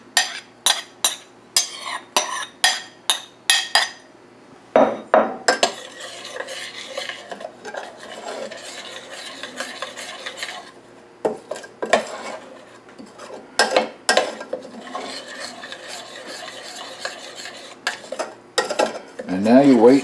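A spoon stirs poppy seeds into a brown butter mixture in a pan, with a series of close, sharp scraping clinks against the metal followed by softer continuous stirring and more clatter near the end.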